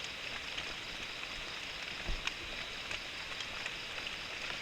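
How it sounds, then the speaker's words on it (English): Steady rain starting at night in the Malaysian jungle, a soft, even hiss of falling drops with occasional faint taps nearby. "So, the rain started."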